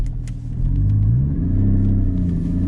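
A Porsche GT4 stuck in a snowy parking lot revs its engine loudly and close, a deep sustained rumble that rises and holds, with faint ticks and scrapes on top.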